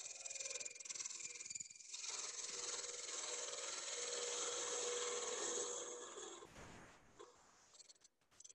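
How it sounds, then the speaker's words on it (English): A hand scraper working wood held in a lathe chuck gives a steady, fairly quiet rasping scrape for several seconds, then trails off into a few soft knocks. "I'm going to use my scraper to make this flat."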